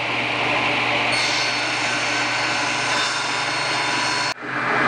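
Steady, loud whine of a power saw cutting a slot across a wooden piece with the fence set at center, running continuously and then cutting off sharply near the end.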